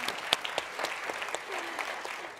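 An audience at a live design talks event applauds with a scattered, moderate clapping that stays fairly faint and thins out toward the end.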